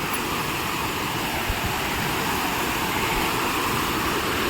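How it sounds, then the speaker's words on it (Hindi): Village waterfall running off the hills in the rainy season, a loud, dense, unbroken roar of rushing and splashing water close by, with no voices. "बरसात के टाइम में ना ऐसे ही बहते रहते हैं यहाँ झरने।"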